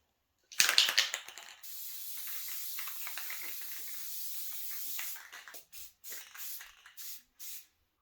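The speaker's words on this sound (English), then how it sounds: "I'm going to spray some clear coat all over this thing" A close, steady hiss of an aerosol clear coat spray can, one long burst followed by several short, quick sprays, coating a 20+ year old Ariens 824 snow blower.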